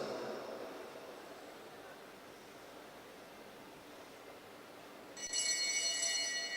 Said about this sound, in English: And the bell rings for him out of the seat.